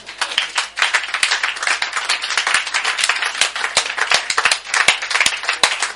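A church congregation claps loudly and continuously in acclaim of the Lord, a dense, fast patter of many hands close by with no speech over it.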